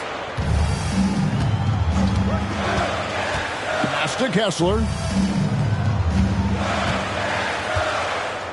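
A crowd in a basketball video game roars after a dunk, a dense, constant wall of arena noise running under a commentator's voice throughout.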